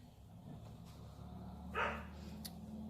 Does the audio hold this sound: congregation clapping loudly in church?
no